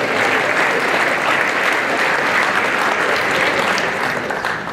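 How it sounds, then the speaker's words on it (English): Sustained, dense applause from a large audience at a National Honor Society induction ceremony at a high school, steady and loud throughout with no voices over it, fading slightly at the very end. "one last round of applause for our new inductees"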